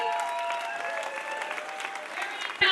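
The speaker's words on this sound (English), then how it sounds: "A round of applause for Let's Go Washington," A rally crowd claps and cheers in steady, continuous applause that stays fairly even throughout, with a sharp knock right at the end.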